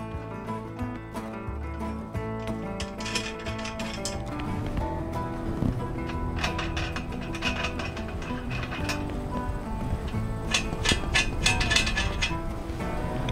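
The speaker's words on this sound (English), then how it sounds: "So first thing I'm going to do is just remove this head holder." A head holder is taken off an Arrowquip Q-Catch steel cattle head gate with pre-loosened nuts, making irregular metallic clanks, clinks and ratcheting knocks up close, growing busier and louder toward the end.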